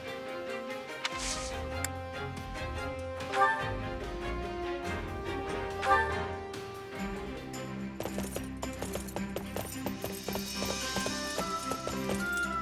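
Steady rhythmic clip-clop of horse hooves alongside game music and tones in Fire Emblem Warriors: Three Hopes on Nintendo Switch, with an occasional brief whinny.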